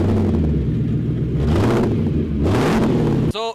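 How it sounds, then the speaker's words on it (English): A race car engine, a Corvette rival built as a project car, rumbles and revs loudly and steadily, rising in pitch around the middle before cutting off abruptly, followed by a brief ringing tone. "So if we can start a race car on a clapper"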